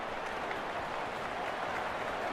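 Stadium crowd at a Gamecocks football game roaring after a punt return, a dense, steady wash of cheering and clapping with no breaks.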